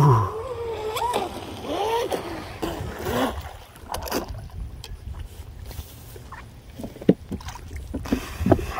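An RC boat with a brushless motor runs at full throttle across the water, its high whine sweeping up and down close by over a steady rush of spray and splashing, fading into choppy water noise and sharp knocks.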